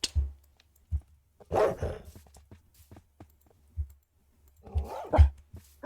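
Minecraft dogs barking in a game, several short sharp yaps scattered across the scene with brief pauses between them, fairly close and moderately loud.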